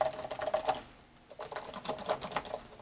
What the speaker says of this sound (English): Typing feels good on the Dell with the flat keyboard.